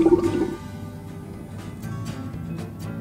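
Vinegar, 150 ml, poured slowly into a homemade lava lamp mixture, giving a steady low gurgling and bubbling pour that runs the whole time after a brief louder splash at the start.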